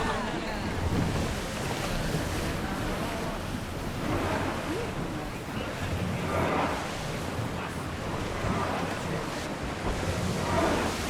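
A ship under sail on the open sea in Assassin's Creed Odyssey, with steady rushing waves and wind washing around the hull, a constant loud wash that swells gently in places.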